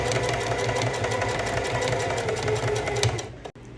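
A sewing machine stitches denim jeans in a fast, even run of mechanical clatter, loud and close, stopping abruptly just before the end.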